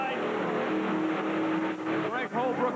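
A 12,000-pound Chevrolet monster truck, Dodge-bodied, roars off the line at a 1990 TNT Monster Truck Challenge event, its loud engine droning steadily and then surging, mixed with crowd and announcer talk.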